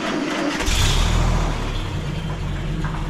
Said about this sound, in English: we're actually going to fire up one of these trucks and take it for a little spin outside. A World War II convoy truck.